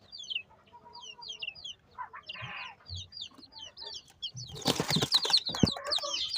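Ten young chickens kept in a group, their high chirps and peeps repeating quickly and close by, then a burst of flapping wings and louder clucking near the end.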